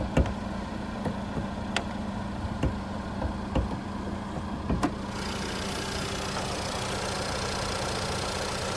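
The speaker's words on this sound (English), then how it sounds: "there's that 2-liter turbocharged 4-cylinder engine" A 2020 Lincoln MKZ's 2.0-liter turbocharged four-cylinder engine idles steadily with a low, even hum and a few faint ticks, running alone without talk.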